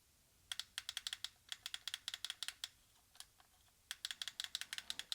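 MC-P5300 gamepad paddle buttons being clicked in quick, light, crisp taps, arriving in rapid clusters with short pauses between them, close and quiet.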